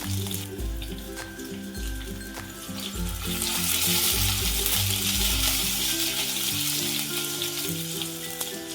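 Sliced onion and slit green chillies sizzle in hot oil in a pan, a loud, steady frying hiss that swells as the ingredients go in, with occasional clinks, no voice.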